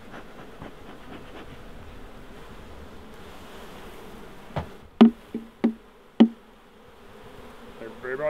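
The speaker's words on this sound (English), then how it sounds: "These little ladies are cute little Italian bees." Italian honey bees at a hive hum in a continuous low drone, with several louder bumps and knocks partway through.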